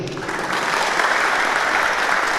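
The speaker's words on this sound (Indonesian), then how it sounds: "Tepuk tangan dari Stokde" An audience at a motivational talk for traders breaks into applause, a steady, dense roar of clapping hands that stays loud and even without pause.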